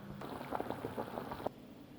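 Lasagna sheets boil in a pot of water, giving a faint, brief run of soft bubbling pops that stops abruptly.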